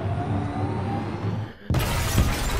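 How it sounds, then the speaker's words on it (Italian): In the Detroit Become Human video game, a truck smashes through a glass barrier, a sudden loud shattering crash with scattering glass after a brief build-up of engine rumble. "con tutto il camion noi lo sfondiamo"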